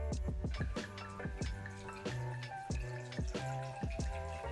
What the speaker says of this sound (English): The first thing you're going to want to do is pour in your wine.